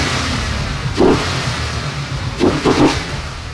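Naturally aspirated cross-plane crank V8 of a 2024 Mustang Dark Horse, revving in a few sharp blips: one burst near the start, then two quick stabs close together, loud over a steady engine drone.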